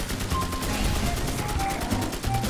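Rapid gunfire in the Magicka wizard game, a dense rattling burst running the full stretch at steady loudness with faint tones and a voice murmuring underneath.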